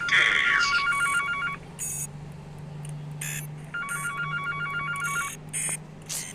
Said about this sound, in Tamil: அதே மாதிரி ஃபோன் அடிக்கும்